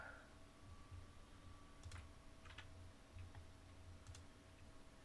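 Soft clicks of typing a password on a computer keyboard, a few quick scattered keystrokes heard faintly over a steady electrical hum.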